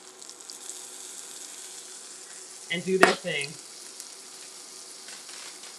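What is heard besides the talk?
eggs in sliced pepper rings sizzling in a pan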